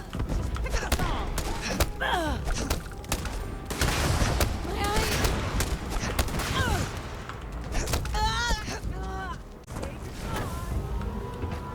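Heavy gunfire in a Starfield firefight, with a dense, sustained stream of rapid shots, loud and close. Voices shout over it, the firing eases near the end and then resumes.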